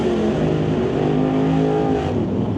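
Drag racing cars, a 1966 Mustang and a Malibu, roar as they launch down the strip, a loud sustained engine drone with rising harmonics and no talking.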